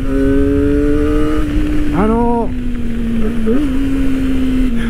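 A Kawasaki Ninja ZX-25R SE 250cc four-cylinder motorcycle holds a high, steady engine whine, with a brief rev blip in the middle and a small dip later, loud and close.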